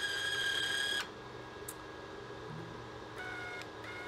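A Harbor Freight Titanium 125 welder feeds wire on cold feed: a close, steady motorized whine for about a second cuts off sharply, followed by quiet hum and a few faint clicks.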